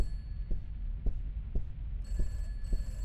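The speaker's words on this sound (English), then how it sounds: "Phones are ringing." In a horror indie game set in a house, a telephone rings in short bursts over a throbbing low rumble with regular thuds, the ringing fairly faint and distant.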